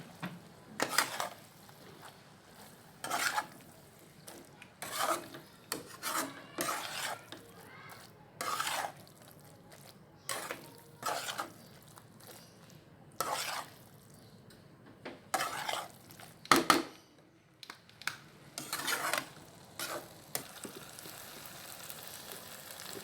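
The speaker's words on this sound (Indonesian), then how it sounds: "Kita aduk ya." Food being stirred in a Teflon frying pan: repeated scraping strokes every couple of seconds over a quiet background sizzle.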